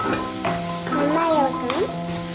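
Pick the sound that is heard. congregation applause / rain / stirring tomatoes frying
stirring tomatoes frying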